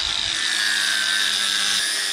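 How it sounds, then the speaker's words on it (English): Angle grinder cutting off a small cap during a Porsche EV conversion, a loud, steady high-pitched whine held close and continuous throughout. "Can you get a grinder and just take that off?"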